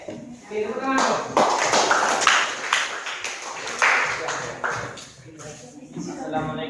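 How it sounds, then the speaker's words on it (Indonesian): A classroom full of students claps together in a burst of applause, dense overlapping hand claps rising quickly and fading after a few seconds, with voices speaking before and after. "Oke, tepuk tangan dong."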